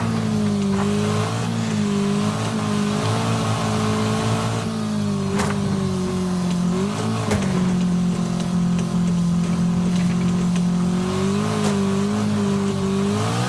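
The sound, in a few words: car engine accelerating in Wreckfest racing video game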